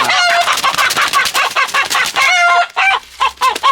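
A rooster being caught squawks and clucks loudly and close by in rapid, agitated bursts that continue almost without pause.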